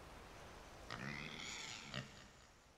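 A pig grunts twice in the video game Enderal, a Skyrim mod: two short, fairly loud snorting grunts about a second apart, alone over a low background hum.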